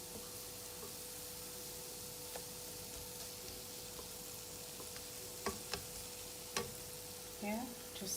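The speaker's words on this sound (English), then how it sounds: "So just evenly spread the onions, let it cook on low flame." Sliced onions sizzle steadily over a low flame in a pan for egg masala, a soft continuous frying hiss with a few faint clicks of stirring and a brief voice near the end.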